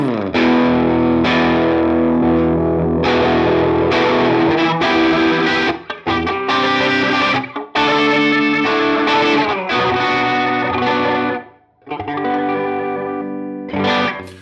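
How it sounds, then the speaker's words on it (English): Electric guitar played through a clean tone on a Line 6 Helix, ringing chords and melodic notes in continuous phrases with a few brief pauses, loud and alone with no voices. "Let's remind ourselves what our clean tone sounds like."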